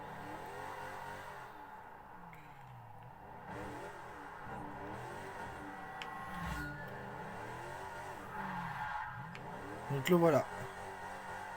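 A GMC van racing in Forza Motorsport gives off a low, steady engine drone and revving under someone talking throughout, with a brief louder burst near the end.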